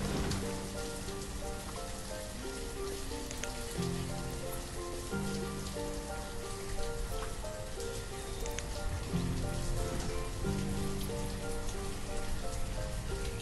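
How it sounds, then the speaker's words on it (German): Steady rain patters continuously on a surface in the video game Banished, with a layered tonal music bed underneath; no voices. "Und es regnet."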